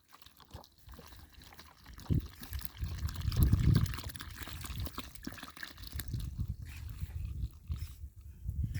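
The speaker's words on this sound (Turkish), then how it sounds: "Şöyle iki kilo da süt koyacağım." Milk poured from a container into about a kilo and a half of flour for festive bayram buns, a soft liquid pour and trickle rising and falling over several seconds, fairly close, with no talking.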